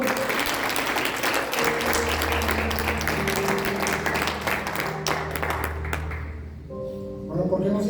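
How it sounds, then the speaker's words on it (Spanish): A church congregation at an evening service applauds steadily for several seconds, dense clapping filling the room over a sustained low musical drone, then tapering off near the end. "¿Por qué no le damos un aplauso al Señor?"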